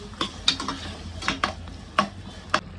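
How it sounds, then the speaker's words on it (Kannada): Vegetables and tomato sauté in oil for tomato bath, a low sizzle punctuated by several sharp scraping clinks as a spoon stirs against the pan. "5 ನಿಮಿಷ ಎಣ್ಣೆಲಿ ತರಕಾರಿನ ಚೆನ್ನಾಗಿ ಬಾಡಿಸ್ಕೊಳ್ಳಿ."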